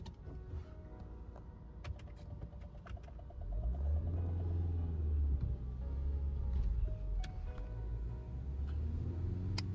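A rental car is being driven back to the parking lot. Faint mechanical whirring and clicks come first, then a low engine rumble swells in after a few seconds and holds steadily, close and dominant.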